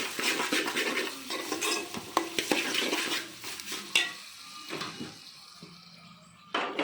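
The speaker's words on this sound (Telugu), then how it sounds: "ఒకసారి కలిగి తిప్పుతాను" Prawns with salt and turmeric are stirred in a pan, giving a continuous scraping and clattering with a light sizzle, fairly close and without speech.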